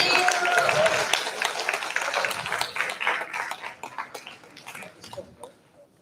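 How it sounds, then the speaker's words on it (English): Dense applause from an audience, many hands clapping at once, loud at first and gradually thinning out toward the end. "Please give a round of applause."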